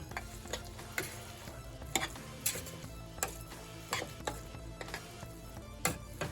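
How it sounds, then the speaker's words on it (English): Spinach being stirred in a pot with a fork, soft scraping and tapping clinks in an irregular rhythm against a quiet sizzling background; no talking. "I'm just stirring in again."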